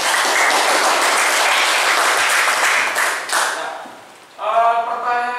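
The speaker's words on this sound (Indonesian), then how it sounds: "coba tepuk tangan dulu untuk Yoga." Classroom applause for a student, a dense burst of clapping that fills the first four seconds, then fades as a voice starts talking near the mic.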